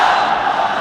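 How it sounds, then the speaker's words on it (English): The capacity crowd at a Counter-Strike esports grand final roars and chants in a dense, steady wall of voices that fills the brief moment, with no pauses. "And the crowd is chanting for WNV, obviously. They're cheering for Chi"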